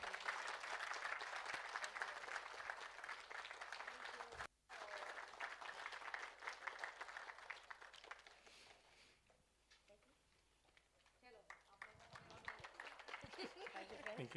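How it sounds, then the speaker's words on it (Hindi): At a meditation gathering in Maharashtra, an audience breaks into dense, sustained applause that dips partway through and then returns as a scattered patter of claps. "जोरदार तालियां।"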